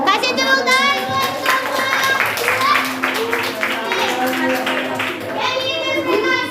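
An indoor audience gives a sustained round of hand clapping that lasts the whole stretch. Children's and adults' voices chatter and call out over it.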